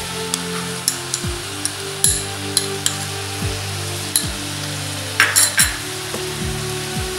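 Raw papaya with ginger paste is stirred in a pan, a spoon scraping and tapping against the metal in steady strokes over a soft sizzle, close by, with no talking.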